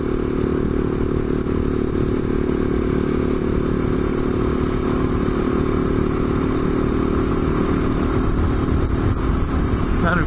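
A big single-cylinder thumper motorbike with twin counterbalancers drones steadily at road speed, a loud, continuous engine note with wind rush and no break throughout.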